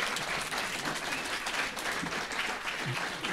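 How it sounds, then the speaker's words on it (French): An audience applauds speakers at a talk, a dense, steady wash of many hands clapping that fills the room for the whole stretch, with no voices standing out. "Je vous propose qu'on remercie nos intervenants en les applaudissant."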